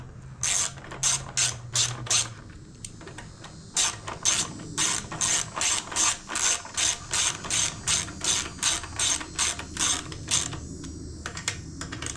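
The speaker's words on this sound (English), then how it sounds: "let me grab my ratchet" Hand ratchet wrench clicking in rapid, evenly spaced bursts while tightening a bolt on a Honda GCV160 engine of a Troy-Bilt TB130 push mower, close and crisp, starting after a brief pause and continuing steadily to the end.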